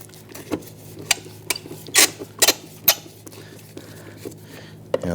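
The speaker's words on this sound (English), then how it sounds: "go ahead and use your Phillips head screwdriver." Phillips screwdriver loosening the screws of a fog light bracket on a 2011-2019 Ford Explorer's front bumper: scattered close scraping and squeaky rasping bursts with a few sharper clicks, over a low steady hum.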